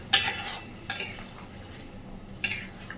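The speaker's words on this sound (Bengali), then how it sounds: "খুব ভালোভাবে এবার মিশিয়ে দেব।" Soybean kofta and lentil curry stirred in a pan, giving three sharp utensil clinks and scrapes against the metal, spaced apart, with a faint low kitchen hum between them.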